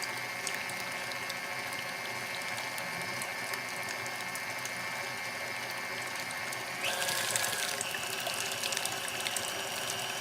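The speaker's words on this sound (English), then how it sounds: "I have a mixer, a paddle mixer instead of a whisk" A stand mixer fitted with a paddle whirs steadily while mixing wet ingredients for Kentucky butter cake, a constant mechanical gear hum that grows louder and brighter partway through.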